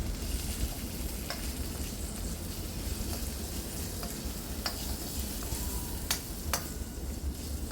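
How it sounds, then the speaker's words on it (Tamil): Laddu ingredients roast in ghee in a pan, a low, even frying crackle with occasional sharp clicks and scrapes from stirring, fairly quiet and free of speech. "இப்போ நாங்கள் கொஞ்சம் நெய்யில் அப்படி இதை கொஞ்சம் வறுத்துக்கொள்வோம்."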